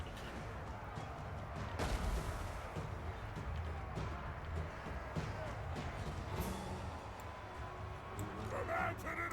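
Artillery shells pound castle walls in a Total War: Warhammer II siege battle, with repeated booming impacts and rumbling blasts under a busy wash of battle noise, fairly distant and moderately loud.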